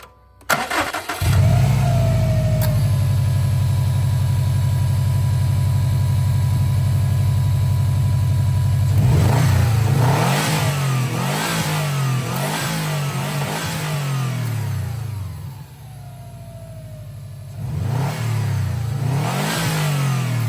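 A 2017 Subaru STI with its stock turbo bypass valve starts up and idles close by, then revs in rising and falling bursts, loud and alone.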